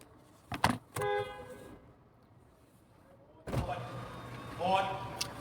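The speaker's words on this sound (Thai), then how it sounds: "ผมเลยกดแตรสายไปหนึ่งทีนะครับ" Car horn given one sharp toot by a startled driver, a loud short blast near the start with a brief knock or door thud just before it, followed by later noise and voices.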